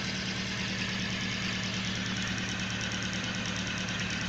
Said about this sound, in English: The coil's kind of popping as it's being pulsed in.